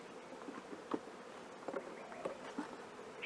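Faint, continuous buzzing of honey bees at an open tropical hive as brood frames are moved to start a new colony, with soft irregular knocks and rustles over the hum.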